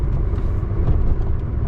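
Truck driving on the road, a loud, close, steady low rumble of engine and tyre noise with no talking.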